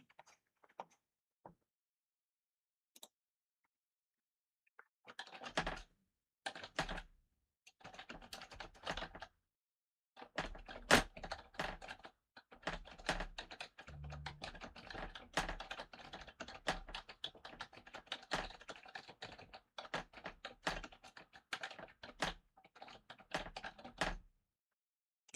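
Rapid, uneven bursts of typing on a computer keyboard, fairly close and dry, starting after a quiet pause and continuing in clattering runs of keystrokes with short breaks, with no talking.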